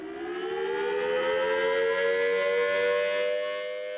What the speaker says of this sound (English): In many areas of the U.S., outdoor warning sirens are used to alert residents of an emergency.